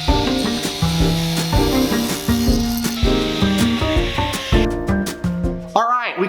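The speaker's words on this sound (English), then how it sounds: "We cut our block of wood" A handsaw cuts through a two-by-four-inch block of old wood with a fast run of rhythmic back-and-forth strokes, close and loud, before the strokes stop near the end.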